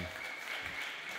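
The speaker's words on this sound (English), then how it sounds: "Give him a big applause, come on." Brief burst of audience applause at a startup pitch competition, a dense steady patter of many hands clapping at moderate distance.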